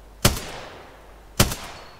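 Two sharp gunshots from Apex Legends gameplay, each a loud crack with a short decaying tail, spaced about a second apart, alone without talk.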